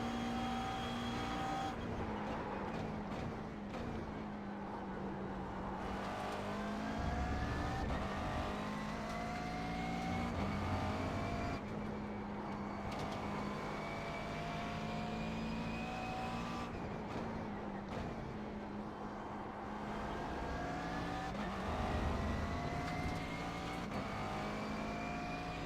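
A McLaren MP4-12C GT3 race car engine roars at Road America from onboard. It is loud and continuous, with rising revs and repeated gear shifts, and a brief tire noise in places.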